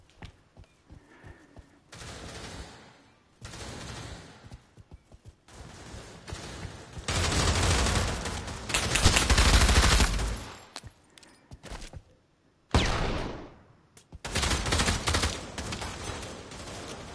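Rapid automatic gunfire in the VR shooter Pavlov during a search-and-destroy round, loud sustained bursts broken by short pauses and a few gaps of near silence.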